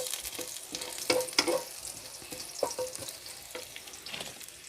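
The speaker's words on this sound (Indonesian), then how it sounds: "Kita tumis dulu bawang putih sama jahenya hingga harum." Garlic and ginger sautéing in a pan, a soft steady sizzle broken by a few sharp spatula clinks and scrapes near the start, close by and moderately quiet.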